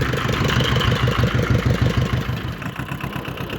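A Yuto 180 mini tractor engine runs steadily under load while plowing alfalfa with a Virax 2-25 plow, a loud, close, rough mid-low drone with a rapid even throb throughout and no talk.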